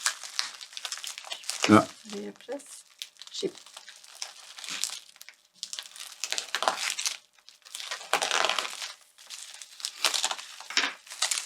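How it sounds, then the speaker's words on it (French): Shipping box opened with a knife during a package unboxing, with crinkling and tearing of cardboard and packing material in irregular bursts, close, under people talking. "est-ce que tu veux prendre le super couteau destructeur et nous ouvrir ça?"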